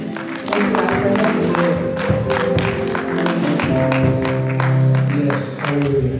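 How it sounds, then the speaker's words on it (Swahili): A church congregation at a Sunday service claps together, a loud sustained wave of applause with some cheering mixed in, swelling toward the end. "Pigeni makofi"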